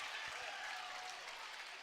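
A basketball crowd in a high school gym applauding: steady, sustained clapping from many hands heard at a distance, fairly faint, with a faint voice mixed in.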